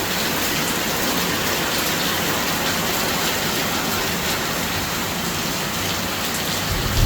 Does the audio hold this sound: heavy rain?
yes